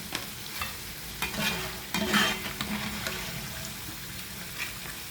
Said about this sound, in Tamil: இப்போ ஒரு 5 நிமிஷமாக இதுக்கு பொரிஞ்சு கொண்டிருக்குது